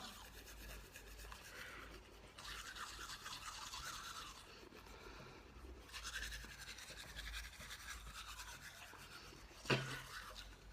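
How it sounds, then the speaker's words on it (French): Teeth being brushed with whitening toothpaste, a steady wet scrubbing rasp of bristles that pauses briefly and resumes, close and fairly quiet, with one short sharp knock near the end. "vous brossez les dents"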